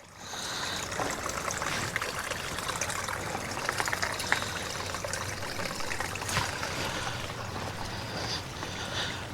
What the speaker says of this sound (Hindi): ये देखें चश्मे का पानी आ रहा है।